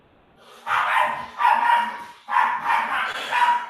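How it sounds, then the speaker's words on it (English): A dog barks loudly and close by in a repeated run of four sustained, harsh barks, each lasting about half a second to a second, with no talk over them. "What is up with this fucking dog, bro?"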